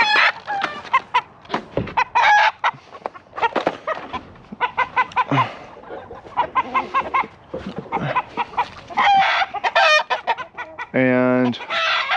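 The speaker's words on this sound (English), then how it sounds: "Or hopefully he'll crow some." A rooster in a garden crows loudly nearby, with repeated clucks and squawks throughout and a long crow near the end.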